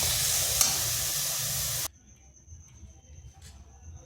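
Carrots stirred in reducing sugar syrup in a pan for a sweet pitha filling: steady loud sizzling hiss for about two seconds, then it cuts off to near quiet with a faint scrape.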